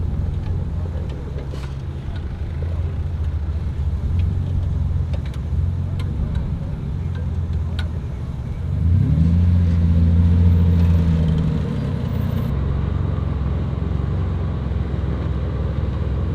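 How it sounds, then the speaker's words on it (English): A Jeep creeps down a steep off-road descent in low range and first gear, giving a steady low engine rumble with wind buffeting the microphone and a brief louder swell midway. "Here Tim is showing us the correct way to come down these steep descents. Low range and first gear"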